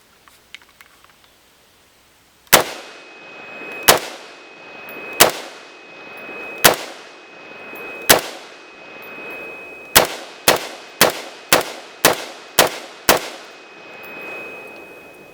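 An MKE AP53 rifle chambered in 5.56 fires twelve loud, sharp shots outdoors. Five come at a steady, spaced pace, then seven follow in quicker succession, each cracking and decaying briefly, with no talking.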